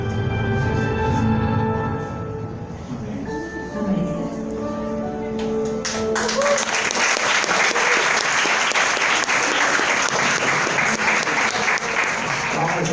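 Applause from a church congregation breaks out around six seconds in and keeps going loud and steady, following a stretch of music with singing.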